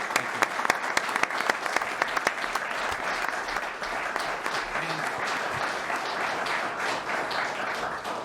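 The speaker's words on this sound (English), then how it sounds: "Let's give him another round of applause." Sustained applause from an audience at a city council meeting, dense steady clapping of many hands filling the room for several seconds.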